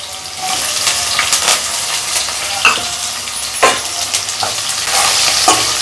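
Onion frying with cloves, cardamom and cumin in a pan, a loud, dense sizzle running the whole time, broken by several scraping strokes of a spoon against the pan; no one talks.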